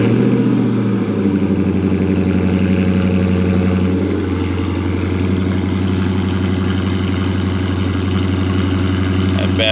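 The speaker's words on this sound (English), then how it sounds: "We get a cold start this morning." A 2019 Dodge Charger Daytona cold-starts, with a loud opening burst settling into a steady, deep, close idle rumble with a faint high whine above it.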